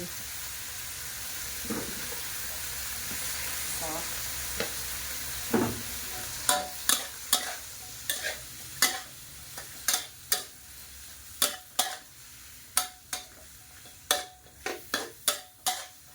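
Chinese kale being stir-fried with pork and salted fish, a soft steady sizzle broken by a run of sharp spatula clicks and scrapes against the pan in the second half, no voices.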